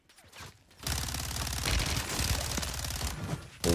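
Rapid automatic gunfire rattles in Warzone 3 on Rebirth Island, a dense burst of shots running for several seconds at close range, loud, then trailing off before a final crack.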